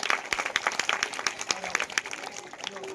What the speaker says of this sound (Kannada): ಚಪ್ಪಾಳೆ ಹಾಕಬೇಕು ಎಲ್ಲರೂ.